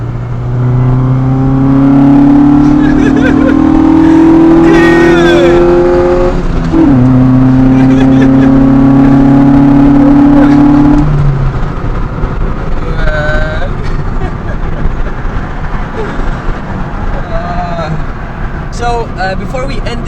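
Honda Civic EG with a D15 engine revving hard and pulling away, a loud rising engine drone that drops and climbs again before fading into road noise, with people talking over it.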